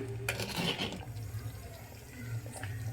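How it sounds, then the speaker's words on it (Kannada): Water runs and splashes into a pot for about a second, followed by quieter kitchen clatter and a low steady hum. "ಒಂಚೂರು ನೀರು ಹಾಕ್ಕೊತೀನಿ"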